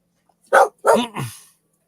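A dog barks three times in quick succession, fairly close and loud, with short gaps between barks and silence after.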